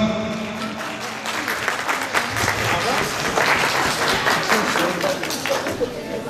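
A large crowd applauds loudly and steadily, with dense, continuous clapping that holds its level from start to finish.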